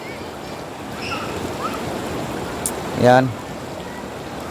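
Clear mountain water rushes down a rocky stream in a constant gurgling wash, with a brief nearby splash and a short spoken word over the flow.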